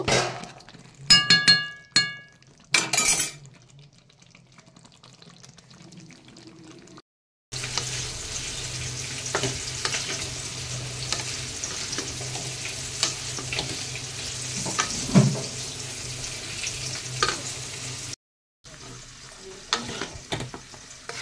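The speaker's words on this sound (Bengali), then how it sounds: "ফুলকপি আলু কষা হয়ে গেল" Cauliflower and potatoes sizzle loudly in a pan as they are stirred and fried down, with clinking utensil taps at the start, then a long steady hiss broken by scraping strokes, briefly cutting out near the end.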